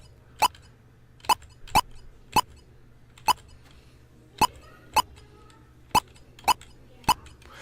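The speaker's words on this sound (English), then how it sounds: "Here's my blip sound." Short electronic blips from a Color Computer programmed in BASIC repeat about ten times at slightly uneven intervals, each a quick, bright synthetic tone over a faint low hum.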